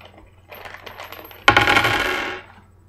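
3D-printed four-sided dice clatter onto a surface, a few light taps followed by a sharp burst of rattling that fades away, close and alone.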